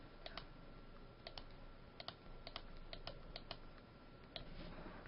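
Computer keyboard keys are tapped at an animation workstation, including the spacebar, giving faint, irregular clicks scattered over a steady background hiss with no voice.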